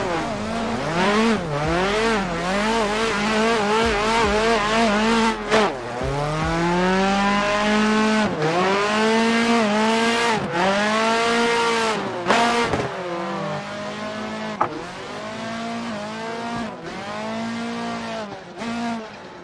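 A Chevette drifts in the racing game Assetto Corsa, its engine revving up and down in long, loud sweeping surges while the tires squeal continuously through the slides.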